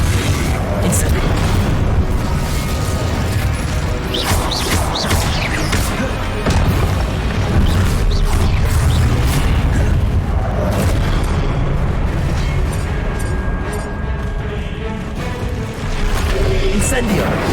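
Repeated fire-spell blasts and booms from the Incendio charm in Hogwarts Legacy on PS5, dense and loud throughout amid ongoing combat noise with voices shouting spell names.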